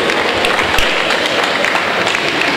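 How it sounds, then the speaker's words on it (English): Applause fills a hall for an award recipient at a recognition ceremony, a dense, steady wash of clapping from a crowd that holds even for a few seconds with no voices over it. "A round of applause for her."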